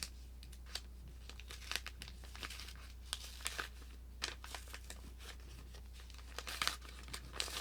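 A mailed packet is opened by hand, with steady crinkling of packaging and sharp bursts of tearing in close, irregular sequence over a low constant hum.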